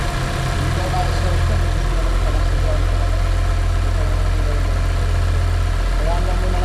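A car engine idles steadily after being started on a cold Canadian day, a loud, close, even hum with a low rumble and no break throughout.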